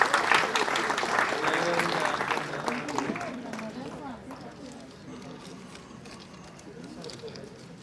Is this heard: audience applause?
yes